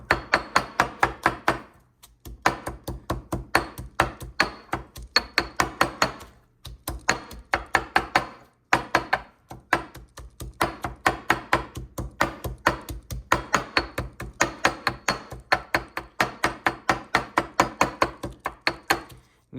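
Rapid, steady pounding of a pestle in a mortar, dull thuds coming in quick bursts with brief pauses between rounds.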